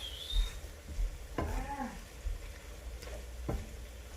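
Spaghetti with seafood is being stir-fried in a pan, giving a faint sizzle under soft stirring and scraping, with a few brief clinks of utensil against the pan.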